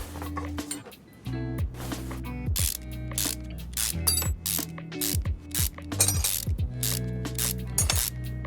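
In a video game, a ratchet unbolts a car part, sounding as close, rapid bursts of clicking pawl ratcheting in repeated strokes with metallic clanks and short pauses between.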